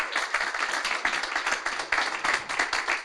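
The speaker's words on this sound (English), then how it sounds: "Round of applause." An audience at a founder showcase event gives a round of applause, with dense, steady clapping from many hands that continues throughout without talking.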